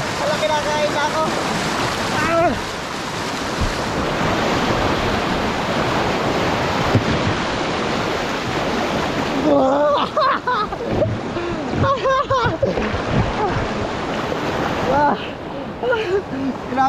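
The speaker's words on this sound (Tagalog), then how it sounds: "Ang lakas lang ng agos." Strong current of the Tapuakan River in Pugo, La Union rushes steadily and loudly close by, a continuous broad wash of water with voices exclaiming and talking over it.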